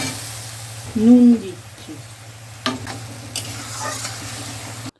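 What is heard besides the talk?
mustard paste frying for tilapia fish curry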